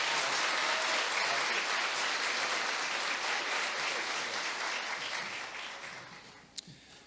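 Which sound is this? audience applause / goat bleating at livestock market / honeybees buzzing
audience applause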